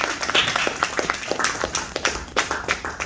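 Applause at a talk on Black creativity in Puerto Rico, a small audience clapping in a loose, uneven patter of individual hand claps, moderately near and fairly light.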